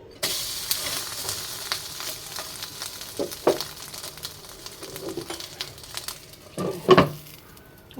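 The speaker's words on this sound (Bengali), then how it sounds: "তাহলে উল্টিয়ে দিলে আমার কি হবে, উপরটাও সুন্দর মতন ভাজা হয়ে যাবে এই নাস্তাটা।" An oil-free snack frying in a pan after being flipped, a soft continuous sizzle broken by scattered taps and scrapes of a utensil, with a louder clatter near the end.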